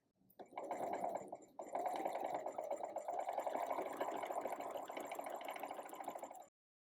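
A sewing machine runs in one continuous stitching burst as two fabric tails of a scrap quilted project are sewn together. The whirr is close and even, with a brief pause near the start, and it stops abruptly.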